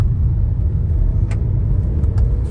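A Kia Seltos with a DCT gearbox pulling hard under acceleration, heard from inside as a loud, steady engine and road rumble, with no talking.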